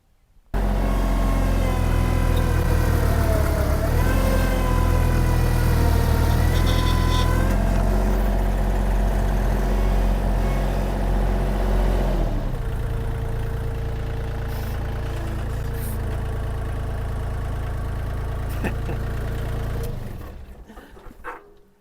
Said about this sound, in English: got the VMENG 580T Pro. Same Kubota D1703 diesel engine.